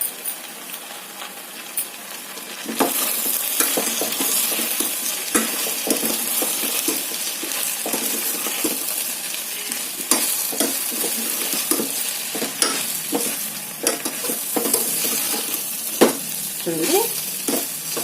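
Crushed garlic and chopped curry leaves hitting hot oil for a simple potato curry, a quiet start then a bright steady sizzle with frequent utensil scrapes and clinks, and a brief spoken word.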